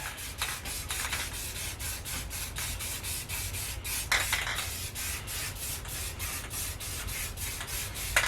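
Short, repeated hissing bursts of a spray nozzle applying wood stain to a baseball bat, fairly evenly spaced and close by, with a soft background hum.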